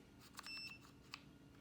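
Faint electronic beeps from the multifunction wiper switch of a Thor Axis RV, sounding as the stalk is turned slowly to make contact: a short steady tone near the start, then a couple of brief chirps, over a low background hum.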